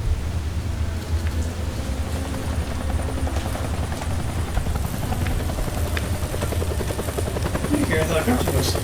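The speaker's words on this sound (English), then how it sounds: "That's the helicopter chasing my friends." Helicopter in the post-apocalyptic game Deadlight throbs loudly and continuously with a dense rotor chop, joined near the end by brief sharp clicks and clatter.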